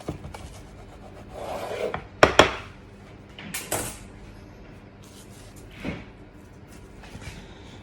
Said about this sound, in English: I'm going to cut this one because they are massive. So, serrated knife.